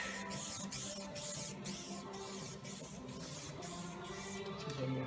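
An aerosol rattle can sprays paint onto a 1970 VW Bus in steady hissing bursts, each separated by a brief gap, close and continuous with no talk.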